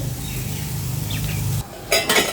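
A lid is set onto a cooking pan holding taro leaf fritters, with a steady hiss and low hum that stops abruptly, then a couple of short metallic clinks and clatters close by.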